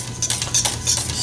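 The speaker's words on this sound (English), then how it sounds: "I can whisk a little harder" Pumpkin bread batter of pumpkin, oil and eggs whisked briskly in a bowl, a close, continuous scraping and clicking with rhythmic strokes and no talking.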